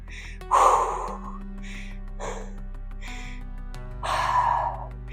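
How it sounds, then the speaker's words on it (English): Heavy, breathy panting after weightlifting in a garage, in a few loud bursts with pauses between, close to the mic, over a low steady hum. "You can listen to me panting over here."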